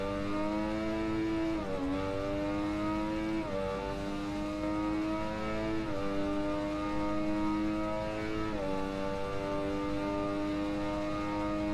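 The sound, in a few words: motorcycle engine revving at full throttle in the video game Ride 2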